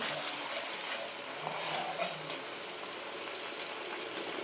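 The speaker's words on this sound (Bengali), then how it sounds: "মশলা কষানো হচ্ছে এখানে" Spices sizzling steadily in hot oil as they are sautéed for a paneer curry, a continuous close frying hiss with small crackles and no voices.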